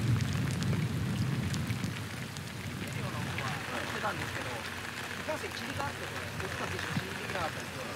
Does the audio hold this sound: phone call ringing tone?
no